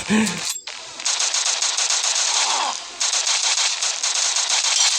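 Sustained automatic gunfire in the video game Adalet Namluda 2, loud continuous bursts with a brief pause, briefly preceded by a voice.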